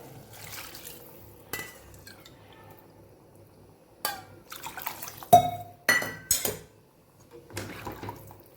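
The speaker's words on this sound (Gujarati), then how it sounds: "જે વાટકીથી આપણે ચોખાનું માપ લીધેલું એ 2 વાટકી આપણે અહીંયા પાણી ઉમેરવાનું છે" Water poured into a pot of rice for potato rice, with splashes, drips and clinks of a metal bowl against the vessel in a home kitchen, in scattered short bursts.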